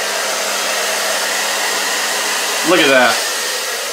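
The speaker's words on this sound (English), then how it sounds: "she'll turn the hair dryer on" A hair dryer runs on high, giving a steady, loud whooshing hiss that continues throughout. A person speaks briefly near the end.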